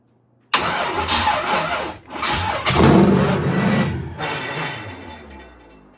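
An LS-swapped Chevrolet Malibu fires up for its first start: a sudden crank and catch, then a loud, rough engine roar that surges and settles unevenly, close up, with no talking.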